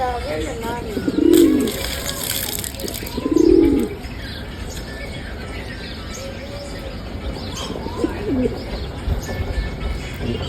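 Pigeons give two close, low cooing calls in quick succession, followed by softer chirps and a brief rustle of wings against a quiet background.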